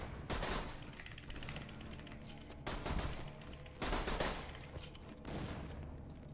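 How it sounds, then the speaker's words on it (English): Rapid bursts of gunfire with bullets ricocheting in the Borderlands 2 video game, loud clustered volleys repeating every second or so, dense and close with no speech. "The bullet is just bouncing all over the place in here."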